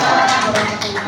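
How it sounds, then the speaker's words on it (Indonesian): Audience applause at an indoor school presentation event, a steady dense patter of many hands clapping close by for about a second, filling the room with no voices over it. "Sekali lagi tepuk tangan Bapak Ibu"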